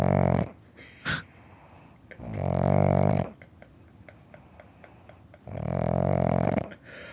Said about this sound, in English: It sounds like an old man snoring. I know it's a pug, and pugs make these noises